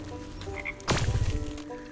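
Frogs croak in the video game Wytchwood, a burst of low, rough croaking that starts partway through and repeats in a quick pulsing run over faint steady game background.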